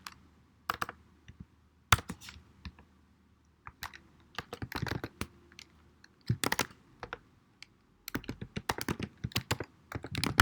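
Computer keyboard typing R code: bursts of quick, close key clicks with short pauses between runs, no voices.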